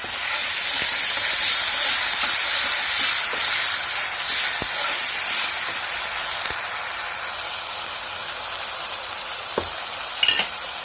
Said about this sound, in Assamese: অকমান আদা নহৰু এইখিনি দি দিম ইয়াত।